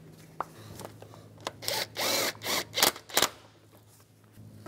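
A bolt being tightened down on a 2010–2016 Cadillac SRX during a spark plug replacement, with a short run of close ratchet or tool whirring bursts between quieter clicks and handling noises.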